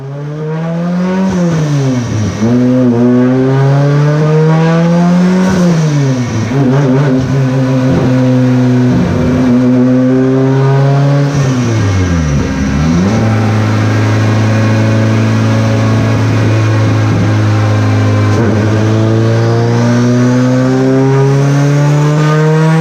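Car engine on a 13 PSI boosted setup roaring through a fourth-gear pull, loud and close, its pitch climbing steadily with a few dips and lifts before holding a high steady drone.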